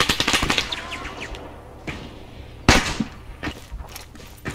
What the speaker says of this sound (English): now they're just putting cannon rounds into a mosque